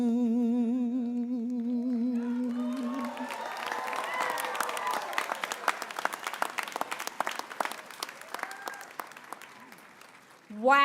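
A crowd at a commencement ceremony breaks into applause for the performers after a sung closing note, the clapping steady and moderately distant before fading.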